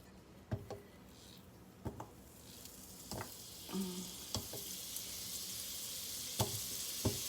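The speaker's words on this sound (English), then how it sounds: "So what I'm going to do first is throw my butter in there." A stick of butter melts in a pan over medium heat, giving a soft, steady sizzle that slowly builds, with scattered sharp ticks and pops throughout and no talking.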